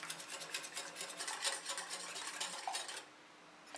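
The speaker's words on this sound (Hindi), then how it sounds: "इसको अच्छी तरह से मिक्स करेंगे।" A spoon stirs yogurt and lemon juice together in a bowl, giving quick, continuous scraping and clinking strokes at close range before a brief quiet pause.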